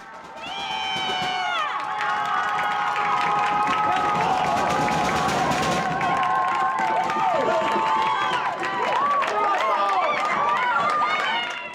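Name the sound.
home crowd cheering at high school soccer game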